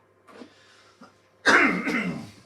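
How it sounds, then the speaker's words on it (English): A couple of faint throat sounds lead into one loud, harsh cough with a rough follow-through, close to the listener. "Excuse my cough."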